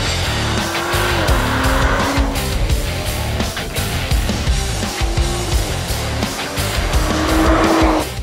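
A 2021 BMW M4 is driven hard on a race circuit, its engine loud and close throughout, revving and shifting, with tire squeal rising during cornering.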